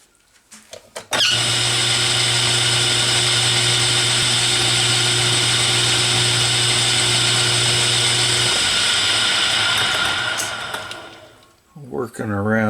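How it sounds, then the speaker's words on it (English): Quarter-inch drill boring a pilot hole in a metal drawbar: a loud, steady whine for roughly ten seconds that spins down at the end, with brief handling noises around it. "Now let's put a 1/4 inch drill in there. Drill a pilot hole."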